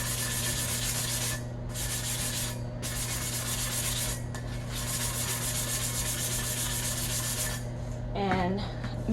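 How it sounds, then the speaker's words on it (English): A sanding block rubs steadily over a tumbler being prepped for glitter and epoxy, a continuous close scratchy rasp under a constant hum with brief pauses in the strokes. "So you just take your sanding block"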